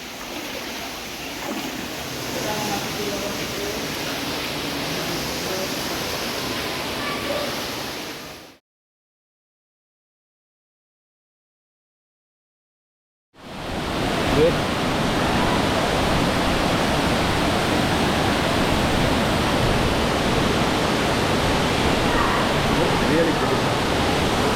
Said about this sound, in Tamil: அந்த சைடு ஒரு வாட்டர் ஃபால்ஸ், அந்த சைடு ஒரு வாட்டர் ஃபால்ஸ்